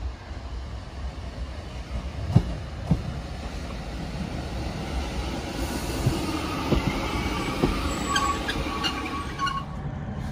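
An East Midlands Railway Class 156 diesel train, unit 156918, rumbles steadily and close at Rauceby, with a low continuous rail roar, a few clunks and faint wheel squeal toward the end.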